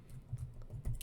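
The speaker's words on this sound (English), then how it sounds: "it's a little bit slow typing" Slow, soft keystrokes on a computer keyboard, a loose run of light taps with uneven gaps, quiet and close, no talking.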